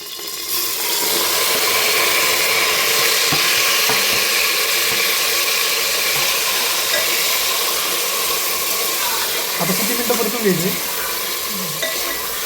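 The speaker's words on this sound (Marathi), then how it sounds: "मॅरिनेट केलेलं मटण टाकून देऊयात" Marinated mutton sizzles steadily in hot oil inside a pressure cooker, a continuous frying hiss with occasional stirring scrapes and clinks throughout.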